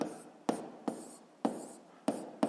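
A pen writes on paper during a physics exercise, making soft scratchy strokes close by. Four or five sharper taps and scrapes mark the start of each stroke against a quiet background.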